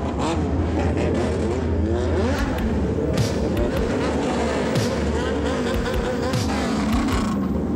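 Motorcycles of a Japanese bosozoku biker gang rev their engines in a loud, continuous roar with rising and falling pitch, with voices mixed into the din.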